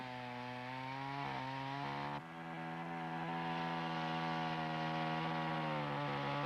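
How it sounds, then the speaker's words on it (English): A chainsaw making the felling cut on a tree, its engine droning steadily and loudly at high revs with a brief dip in pitch partway through, close up and without talk. "As the saw approaches the notch, slow down and control the rate of cut very carefully."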